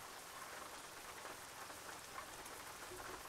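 Steady rain falling on a wet day at a truck stop in downtown Las Vegas, a soft, continuous hiss with scattered drop patter, fairly faint and unbroken.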